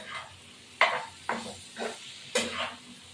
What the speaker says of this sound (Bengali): এবার খুন্তি দিয়ে নাড়াচাড়া দেবো।